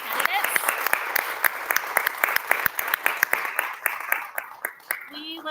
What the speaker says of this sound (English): Can I get a round of applause for our trustee candidates?